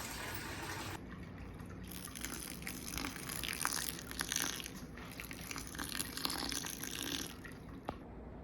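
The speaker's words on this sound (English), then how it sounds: "now I'm going to fill up with Sparge water. Just basically sprinkle the water around" Sparge water splashes and patters steadily onto a wet grain bed while brewing an all-grain lager, a continuous trickling spray with occasional small drips, fairly quiet and close.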